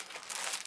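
Paper being crumpled and handled, a short, faint crinkling rustle close by.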